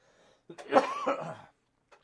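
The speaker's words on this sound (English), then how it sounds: "I'm coughing again" A person coughs in one short burst of a few rough, throaty coughs, close and fairly quiet, followed by a faint breath.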